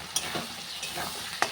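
Potatoes and chhena frying with spices in a pan, a close sizzle broken by a few sharp stirring scrapes, with no talk.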